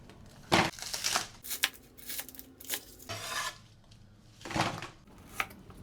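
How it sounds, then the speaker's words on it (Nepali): A knife roughly chops bell pepper, onion and spring onion on a board in a series of irregular, crisp crunching strokes, fairly quiet and close, with no talking. "हामी केही बेल पेपर लिएका छौँ र यसलाई रफली चप गर्छौँ।"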